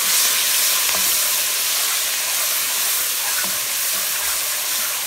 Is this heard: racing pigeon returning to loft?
no